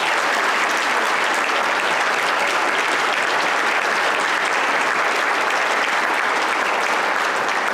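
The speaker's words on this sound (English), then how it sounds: "Can we give them another round of applause?" Loud, sustained round of audience applause at a talk, dense and even clapping from a large crowd filling the whole stretch without a break.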